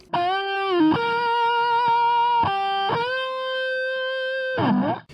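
A sustained, distorted electric guitar with parallel compression plays long held notes with smooth pitch bends and slides, thick and even in level, heard alone.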